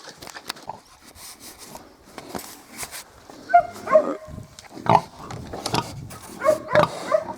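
Short squeals and grunts of Mangalica piglets, several nearby, in irregular bursts with a few sharp high squeaks.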